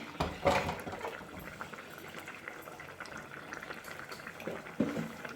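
A pot of fish curry made with sardines bubbles at a steady boil, soft popping and gurgling close by, with a couple of louder clinks or stirring knocks.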